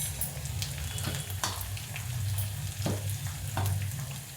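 A potato filling with turmeric, asafoetida and salt sautéing in a pan for potato patties, a steady close sizzle broken by occasional scraping stirs.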